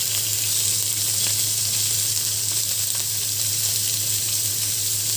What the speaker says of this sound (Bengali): মাংসটা একটু ভাজা হোক